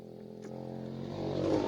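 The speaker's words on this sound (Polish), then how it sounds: "O, jakiś motorek." A motorbike passes by outside with a buzzing engine drone that swells gradually and grows louder toward the end of the short clip.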